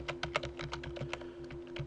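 Brisk keystrokes tap on a computer keyboard as a comment is entered in a spreadsheet, with a steady quick rhythm of close clicks over a faint low hum and no talking.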